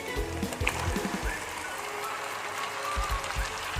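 Chicken meat dropped into fried onions in hot oil for a chicken gravy crackles and sizzles continuously and loudly up close, with low bumps and stirring noises underneath.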